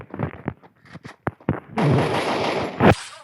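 Gunfire from the video game Sigma Game: a handful of sharp, separate shots in quick succession, followed by a sustained, loud burst of noisy gunfire with a final louder crack.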